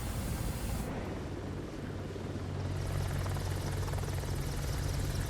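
An AH-64 Apache helicopter in Microsoft Flight Simulator 2024 gives a loud, continuous rotor and turbine roar with a rapid blade chop and a steady low drone, holding close and even with no voices.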